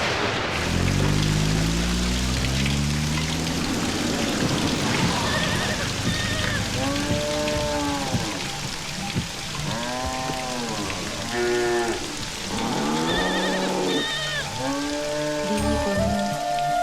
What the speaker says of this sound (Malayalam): മഴ വരാൻ പോണ്ടല്ലോ